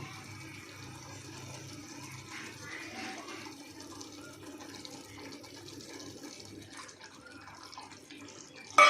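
Tamarind water for a Tamil anchovy fish curry pours into a pan with a soft, steady liquid trickle and splash, faint and continuous under quiet kitchen background, ending with a brief louder knock.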